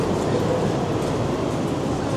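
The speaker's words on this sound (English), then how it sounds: "Oh, and you hear that? That's the trains down there." Trains rumble past below street level in New York City, a steady, dense low roar that holds constant throughout beneath rainy city ambience.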